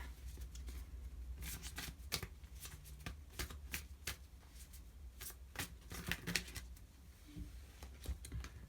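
Tarot cards shuffled by hand during a love reading, a steady run of crisp riffling bursts with quieter gaps, close and with no talk.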